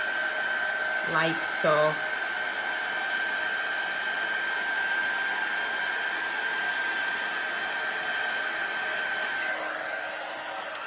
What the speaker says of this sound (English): holding my heat gun still. As soon as I see that embossing powder melt and change to a bright white, I'm moving the heat gun straight over the image